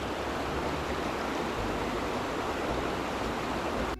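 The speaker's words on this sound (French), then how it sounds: "Trop de bruit côté cascade sans doute" A forest stream spills over a small waterfall in a steady, dense rush of water, close and loud, unbroken from start to finish with no voices.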